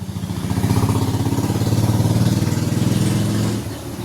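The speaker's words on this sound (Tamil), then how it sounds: "இங்கே கொஞ்சம் சவுண்டாக இருக்கும், ரோட்டில் வண்டி போயிட்டே இருக்கனால" Steady engine noise of motor vehicles passing on a nearby road, a loud continuous rumble that swells and holds for several seconds before easing slightly near the end.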